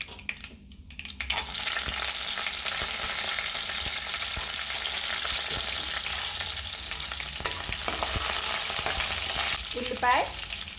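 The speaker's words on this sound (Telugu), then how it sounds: "ఇప్పుడు పోపులు లో ఫ్లేమ్లోనే వేగాలి." Tempering spices and green chillies fry in hot oil over a low flame, producing a loud, dense, continuous sizzle with occasional stirring clatter, close by and without talk.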